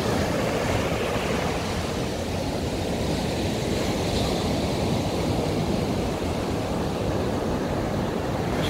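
Ocean surf rolls steadily onto the beach at Balneário Camboriú on a chilly day, a continuous broad wash of breaking waves with no pauses or voices.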